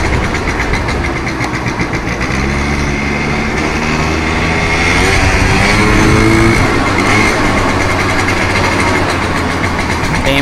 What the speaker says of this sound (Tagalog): Tahimik naman yung makina